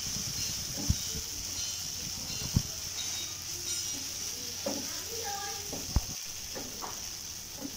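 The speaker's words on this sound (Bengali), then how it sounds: "এখন এই মশলা দিয়ে আমি একটু আবারও ভেজে নিচ্ছি।" Ludus sizzle with masala in a pan as they are stirred, a soft continuous hiss broken by a few sharp spatula knocks and scrapes at close range.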